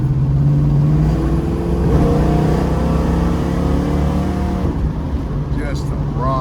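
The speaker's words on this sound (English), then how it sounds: "Just a running car." A 1970 Dodge Challenger R/T with a 440 Six Pack V8 idles steadily with a deep, continuous rumble, close and loud, and its pitch shifts slightly midway.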